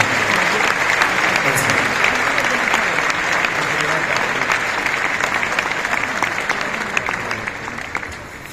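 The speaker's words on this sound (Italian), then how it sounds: "Fate un grande applauso" Sustained applause from an audience at a concert, dense and steady throughout with scattered crowd noise and some voices mixed in.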